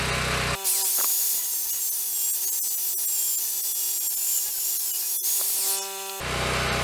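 Steel stock is cut off for a first knife with a power tool, a loud continuous high-pitched abrasive screech held steady for about six seconds between abrupt start and stop.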